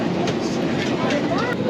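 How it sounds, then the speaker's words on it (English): Atlanta airport's underground people-mover train heading to Gate C, a steady, close rumble of the rail car with faint voices underneath. "Train to the Gate C"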